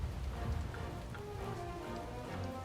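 Rain falling in World of Warcraft at Exile's Reach, a steady soft patter of drops on surfaces with low rumbling beneath, fairly quiet and continuous for the whole moment.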